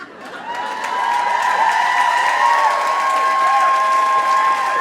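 A comedy-special audience claps and cheers in a steady, full wash of applause that swells in over the first second and holds loud to the end, with a sustained tonal hum running beneath it.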